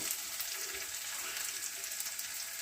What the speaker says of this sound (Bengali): পেঁয়াজগুলো হালকা নরম হলে শাকটা দিয়ে দেব